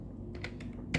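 A few quick keystrokes tap on a computer keyboard, faint and close, with a slightly louder key press at the end over a low background hum.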